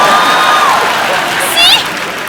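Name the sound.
studio audience clapping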